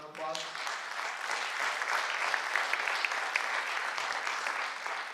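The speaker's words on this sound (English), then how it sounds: "let's give them a round of applause" A large crowd gives sustained applause, loud and continuous clapping that fills the whole stretch without pause.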